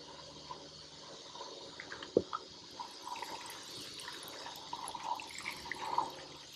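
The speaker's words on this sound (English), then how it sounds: "I'm going to water him in." Water is poured from a watering can onto a freshly transplanted plant in a garden bed, a soft steady trickle and splash with a few louder drips and spatters.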